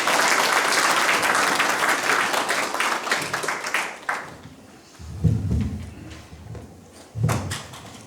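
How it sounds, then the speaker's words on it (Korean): An audience applauds steadily for about four seconds to welcome the education superintendent at an education office planning briefing, then the clapping fades and a few dull knocks and thuds follow. "교육감님을 큰 박수로 맞이해 주시기 바랍니다"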